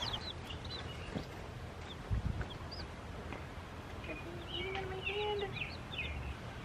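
Scattered high-pitched chirps and peeps from baby chicks, with a brief clucking burst and soft rustling in the background, no talking.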